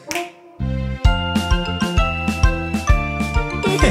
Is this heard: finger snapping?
yes